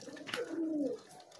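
A homing pigeon gives a single soft, rolling coo, close and fairly quiet, with nothing else heard around it.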